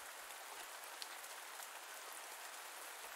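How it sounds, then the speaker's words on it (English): Heavy rain in a farming video game falls as a continuous, even hiss of dense drops, steady and fairly faint, with no talk over it. "Wow, it's raining even harder here."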